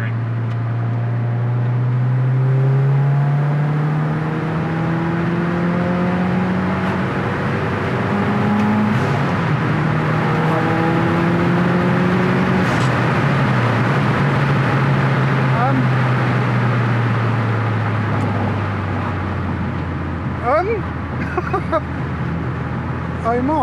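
Subaru Impreza WRX STI PRO R with an ACT stage 2 clutch accelerating hard through the gears, its loud engine note climbing repeatedly and dropping at each shift, with people talking over it.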